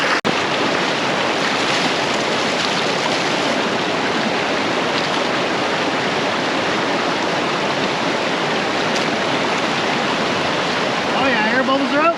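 Water rushes steadily out of a 4-inch gravity dredge, a loud, close, continuous churning roar that holds for the whole stretch.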